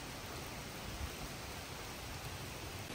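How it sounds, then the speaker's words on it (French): Steady rain falls outdoors as an even, hissing wash of sound, faint and continuous for a few seconds with no voices. "Il pleut, il pleut, il pleut."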